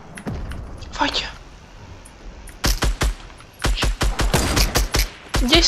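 Fortnite gunfire cracks in quick sharp bursts, a few isolated shots early and then rapid volleys toward the end, while players talk over the action.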